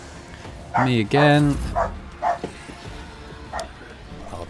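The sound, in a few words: dog barking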